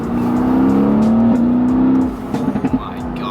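A Mercedes-AMG GT S downshifting while driving at night, its engine tone holding steady and then breaking into a quick burst of blips and pops as the gear drops, loud and close from inside the car.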